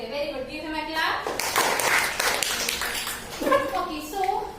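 Students in a classroom clap for a classmate, a burst of mixed handclaps over roughly two seconds, moderately loud and close, with a teacher's voice heard before and after.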